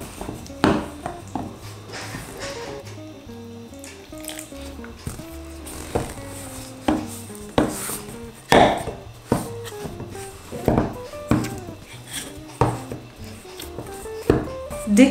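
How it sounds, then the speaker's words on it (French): Dough being mixed with a wooden spoon while warm water is added, giving repeated wet squishing knocks and scrapes at an irregular pace, with music underneath. "je vais vraiment venir tout mélanger petit à petit en rajoutant mon eau tiède"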